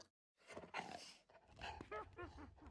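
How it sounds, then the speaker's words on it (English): Dogs in the video game Minecraft give short, soft barks and yips with a breathy panting sound between them. The sounds come close together and are fairly faint. "Get all these dogs."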